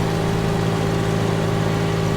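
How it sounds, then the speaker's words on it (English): A steady, loud tractor engine drone in Farming Simulator 19 hums at an even idle-like pitch, unbroken and close. "I think the sound is quite loud on this tractor."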